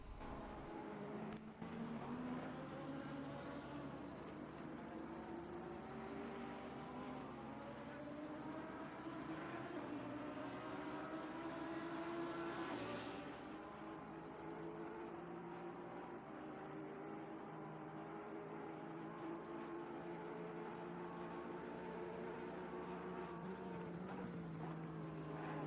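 Aston Martin and Porsche race cars battling for position through the Nürburgring's Schumacher S in a racing video game, engines droning and climbing in pitch with gear changes, loud and sustained over the whole stretch.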